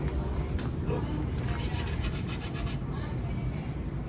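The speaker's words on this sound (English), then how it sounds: "once it's dried, you use a grater" Dried cocoa being grated by hand on a grater, a rapid rhythmic rasping scrape close by, mixed with background chatter and street noise.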